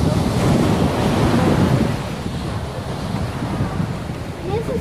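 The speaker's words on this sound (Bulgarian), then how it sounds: "днес ще има повече вълни" Ocean waves on a beach at Cayo Largo, Cuba, surge and wash in a loud continuous roar, mixed with gusty wind buffeting the microphone.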